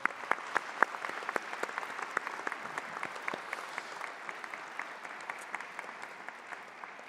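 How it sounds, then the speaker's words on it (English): Sparse, distinct handclaps from a graduation ceremony crowd, individual claps popping out over a soft ongoing patter, fairly quiet and even throughout. "Give them an applause."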